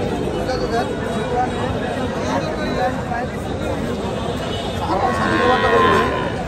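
Cattle lowing at a busy rural cattle market selling bull calves in Comilla, with moos rising over a steady crowd hubbub and voices chattering throughout.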